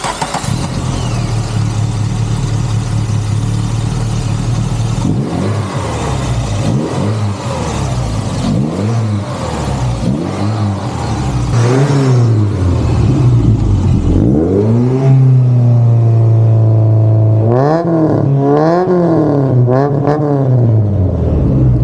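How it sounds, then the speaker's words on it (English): A new Volkswagen long block crate engine in a 1980 Volkswagen Caddy pickup idling and then revving repeatedly, rising and falling in pitch, loud and close with no talk. "Powering this little hot rod is a brand spanking new long block crate engine right from Volkswagen"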